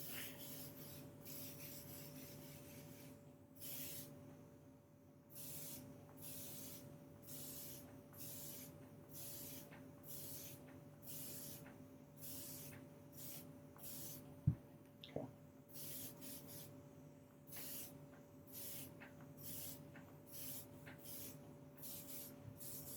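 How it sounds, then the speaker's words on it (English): Airbrush spraying paint onto a figure, repeated short bursts of airy hiss in quick rhythmic pulses close up, with a faint steady compressor hum underneath. "I'm backed off pretty far on the airbrush"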